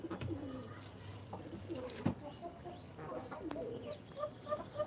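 Pigeons coo outdoors in soft, repeated low throaty phrases, with a few louder calls among the flock and faint background noise.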